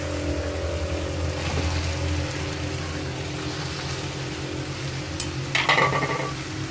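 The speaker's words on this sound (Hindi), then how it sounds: "अब इसको थोड़ा सा सौते करना है मीडियम फ्लेम पे" Onions and green chillies sautéed on a medium flame for egg fried rice, giving a soft, steady sizzle over a low kitchen hum, with a brief utensil scrape near the end and no talking.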